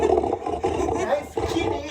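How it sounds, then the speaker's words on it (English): A lion roar played back through a Google smart speaker: a sustained, loud growling roar in three surges with brief dips between, captured close in a room. "Okay, Google. Roar like a lion. This is a lion."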